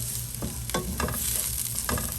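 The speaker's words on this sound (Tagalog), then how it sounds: "Karon nagpainit na tag mantika ato ng ilunod ang ato ang lamas." Onions sautéing in hot cooking oil while being stirred, a bright steady sizzle close to the pan with several scraping stirring strokes spaced through it.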